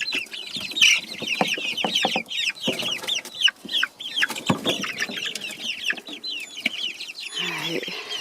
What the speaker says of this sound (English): A mixture of a rooster, Red Star, and Astrolop, and they come up with their own little special breed.